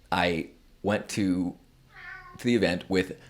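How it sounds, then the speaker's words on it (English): Cat meows loudly several times in short, drawn-out cries, close by and mixed with a person talking. "That's the cat."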